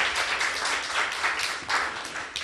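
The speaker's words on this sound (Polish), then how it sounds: "Brawa." An audience at a small art gallery claps steadily, a dense wash of applause from many hands at moderate distance, lasting a few seconds without speech.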